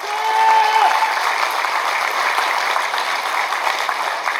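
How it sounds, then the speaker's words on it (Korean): Audience at a People Power Party provincial chair inauguration ceremony applauding, a dense steady wash of clapping heard alone at a fairly loud level throughout. "응원의 박수 한번 주십시오"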